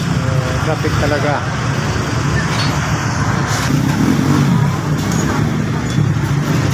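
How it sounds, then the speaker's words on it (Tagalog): Heavy town fiesta traffic in Tanjay City fills the scene with close car and motorbike engines, some revving, forming a loud constant roar with people talking over it. "Traffic ito. Traffic."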